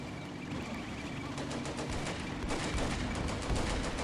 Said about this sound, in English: Ooh, another ricochet.